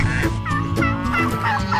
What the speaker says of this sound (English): turkeys,